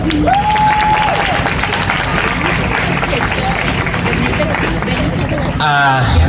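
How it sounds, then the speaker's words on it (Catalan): Audience applause for a speaker at the Mescla't 2017 youth event, a dense sustained wash of clapping and crowd noise, loud throughout, with a brief whistle-like tone early on. "que demano un gran aplaudiment un altre cop"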